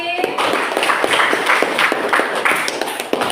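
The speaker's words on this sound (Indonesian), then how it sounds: "tepuk tangan untuk Kelompok Sufi" A small group claps for a student team that has just finished presenting, irregular separate claps close by, with voices talking over the applause.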